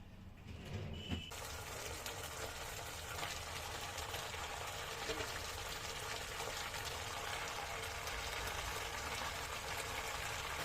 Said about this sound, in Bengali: এটা তেল দিতেছি